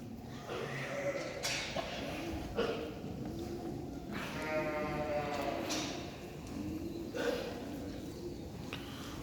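Female Merino and Ile de France sheep in a barn, several overlapping bleats heard amid steady barn noise and shuffling, with someone speaking at times over the flock.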